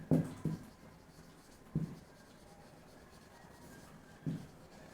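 Pen writing on paper during an accounting lesson, heard as faint, scattered scratchy strokes in a few short bursts against quiet room tone.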